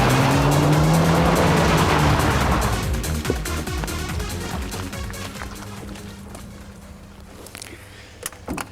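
A Group N rally car races fast along a bumpy gravel track, engine roaring loud and close at first with gravel crunching and spraying, then fading as it moves away, leaving scattered stone rattles.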